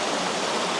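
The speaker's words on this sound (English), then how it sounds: "The waterfall itself, it's just like a stream that comes down in the back." Steady, dense rush of a waterfall stream at Sombrio Beach on Vancouver Island, loud and close, a continuous broadband roar with no other sounds.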